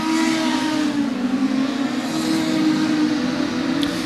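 Production sedan race cars snarl around a track in a steady, loud engine roar with a sustained rising and falling drone, as if several cars are running close together through the turns.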